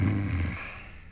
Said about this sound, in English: And the snoring is louder.